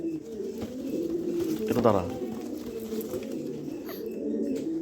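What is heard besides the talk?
racing pigeons cooing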